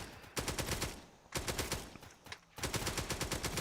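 Automated turrets firing on a zombie horde in the Roblox game Zombie Rush Survival: three rapid bursts of machine-gun fire separated by short gaps, loud and close, with no talking.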